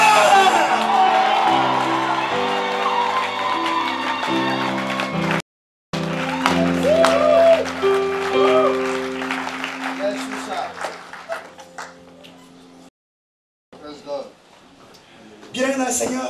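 A church congregation stands, shouting and applauding, a loud crowd roar with whoops mixed with amplified preaching and music, broken by two brief dropouts.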